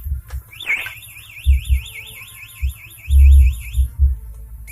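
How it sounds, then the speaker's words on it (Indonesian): A loud motorcycle alarm warbles rapidly up and down for a few seconds, with thumps and knocks underneath, nearby and alone. "kalau itu kena senggolan misalkan si alarmnya, ini pasti bunyi nih"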